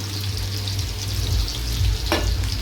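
Onion frying in a pan with a little oil, a loud steady close-up sizzle and crackle with a low rumbling hum beneath and one brief sharp scrape near the end, no talking.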